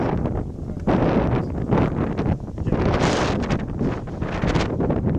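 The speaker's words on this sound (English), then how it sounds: "the wind is bad, cold front coming in" Strong cold-front wind gusts over open marsh on a canoe trip in the Boundary Waters near Little Indian Sioux, roaring loud and steady against the microphone throughout with swelling rushes and no talking.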